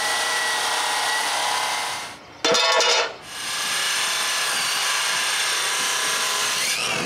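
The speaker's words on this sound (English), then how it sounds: "Then I can cut all the metal I'll need for the posts anchors." A power saw cuts metal for post anchors in a loud, harsh burst lasting under a second, with a steady whirring machine hum before and after.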